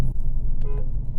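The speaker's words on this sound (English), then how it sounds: "Horn works." A short horn toot from a 2002 Vauxhall Vectra GSI 2.6 V6, sounding once midway through a steady low engine rumble.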